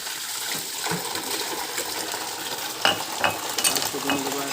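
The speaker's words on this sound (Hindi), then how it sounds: "अब इससे हम मोटर की सहायता से अच्छे से धोएंगे" A motor pump sprays water to wash the wheel of a Bajaj Discover 100 motorcycle: a steady hissing, splashing spray runs close and fairly loud throughout, with a few sharper splatters near the end.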